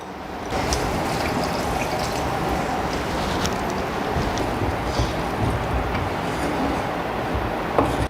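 Water is poured into a pan of Tamil turkey berry gravy, giving a steady, close, broadband hiss and trickle that runs unbroken for about eight seconds with no talking.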